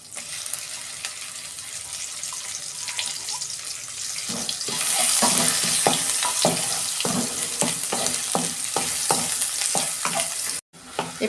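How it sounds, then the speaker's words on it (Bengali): Onion paste fries in a pan over a tempering of bay leaf and whole cumin, with steady sizzling and a run of regular spatula scrapes from stirring, close and fairly loud, while preparing a prawn and cauliflower curry. "পেঁয়াজ একটা বেটে রেখেছিলাম"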